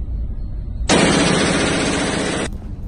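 A modified M4 rifle with a shortened barrel fires one loud, sustained automatic burst of about a second and a half, close and harsh, ending abruptly. No talk.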